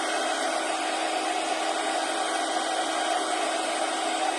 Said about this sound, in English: I'm just going to heat emboss it till it goes shiny.